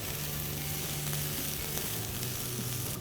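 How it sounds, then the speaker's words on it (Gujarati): Long-chopped cabbage sizzles steadily in a hot pan for a Jain American chopsuey, a continuous close frying hiss with faint stirring and no talk. "હવે આપણે આ જે લોંગ ચોપ કરેલી કોબી છે એ નાખી દઈશું"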